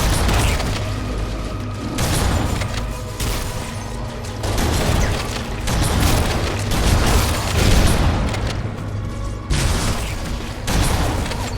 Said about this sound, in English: Oh, it's a bomb!